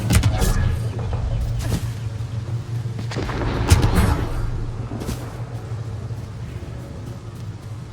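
A frag grenade goes off in the sci-fi shooter Mass Effect: Andromeda, a heavy rumbling blast rolling through a dense low drone of game combat noise, with a sharper burst peaking near the middle and sustained loud texture throughout.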